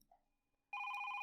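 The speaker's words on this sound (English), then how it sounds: "Then, suddenly, the phone rang." A telephone rings in the horror video game Gakkou de Atta Kowai Hanashi S. After a quiet lead-in, a loud electronic bell tone starts abruptly and rings continuously, alone.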